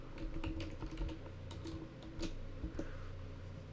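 Fingers typing a terminal command on a computer keyboard, a quiet close-up run of irregular key clicks and taps with brief pauses, no voices.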